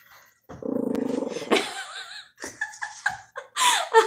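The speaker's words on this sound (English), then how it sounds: "He's growling at this where I put necklaces on." A dog gives a sustained low growl lasting about a second, followed by snuffly breaths and sniffs. A person laughs and speaks nearby.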